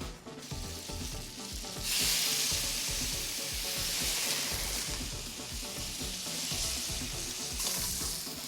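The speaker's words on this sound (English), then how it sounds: "Take the fresh basil, saute, saute, saute." Fresh basil and blistered cherry tomatoes sauté in olive oil and butter in a pan, hissing in a steady sizzle that swells louder at times, with clattering stirring and pan sounds underneath, close by.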